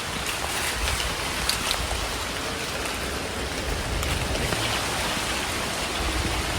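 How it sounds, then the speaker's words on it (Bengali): Heavy rain pours steadily during a storm in a mango grove, a dense continuous hiss with no voices. "বৃষ্টিতে ভিজে ভিজে আম কুড়াচ্ছি"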